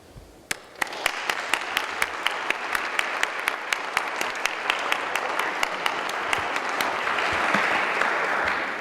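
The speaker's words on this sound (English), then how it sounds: "give another warm applause to Chris Willingham" An audience applauds at an animal medal ceremony, sharp individual claps starting after a brief pause and building into steady, full clapping that swells toward the end.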